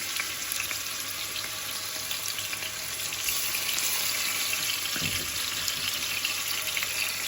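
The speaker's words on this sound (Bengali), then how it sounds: "এই মিরকা মাছটাও অনেক ভালো তারপরে একটু ফ্রাই করে নিচ্ছি" Pieces of mirka fish fry in a pan with a steady, dense sizzle that holds at an even level throughout, close and fairly loud, with a faint scrape near the end.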